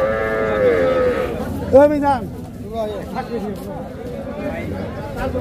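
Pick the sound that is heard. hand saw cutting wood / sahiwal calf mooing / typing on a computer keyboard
sahiwal calf mooing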